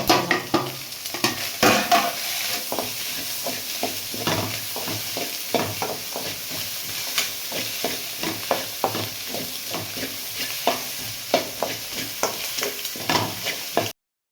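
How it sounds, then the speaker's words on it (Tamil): Onion, green chili, carrot and beans stir-frying in a pan for homemade chicken fried rice, a continuous sizzle with quick, repeated spatula scrapes and clinks against the metal, close and fairly loud, no voices. "வெங்காயம் பச்சை மிளகா கேரட்டு பீன்ஸு எல்லாம் போட்டு நல்லா கலந்து விட்டுருங்க"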